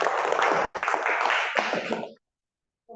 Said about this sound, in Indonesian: Kasih tepuk tangan buat Bambang ya.